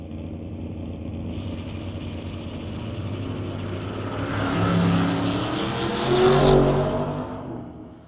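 Ford Falcon drag racing down the strip at an old-time drags event, a loud sustained engine roar that swells as the car accelerates and passes near, then fades slightly.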